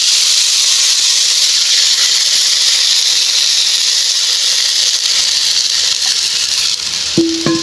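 Broth for bat and ball soup heats in a pot, giving a loud, steady hiss that fills the whole stretch, with a brief clink of utensils near the end.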